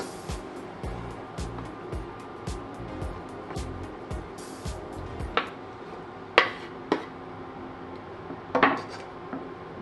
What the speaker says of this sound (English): So into the pan, we're going to add our chopped steak.